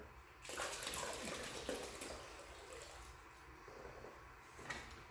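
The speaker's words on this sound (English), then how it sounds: "I'm going to dump the whole thing into that water" Purple Power degreaser is poured into a bucket of hot water, making a continuous gurgling rush of liquid close by. It is fairly quiet, steady for several seconds and then tapers, with no talking.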